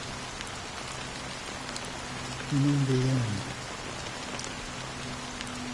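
Steady rain falls in the video game Honkai Star Rail, a constant, even patter throughout while a voice speaks briefly over it midway.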